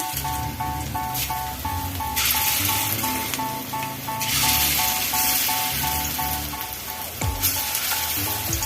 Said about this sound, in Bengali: তেল গরম হয়ে গেছে, আমি ডালের বড়াগুলো ছেড়ে দিচ্ছি।